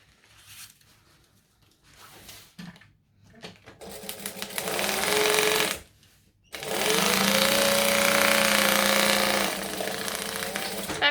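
A sewing machine running close and loud as it back stitches a bag pocket, with quiet fabric handling first, then a long fast whirring burst, a short pause and another sustained run.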